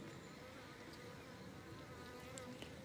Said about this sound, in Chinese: 这小蜜蜂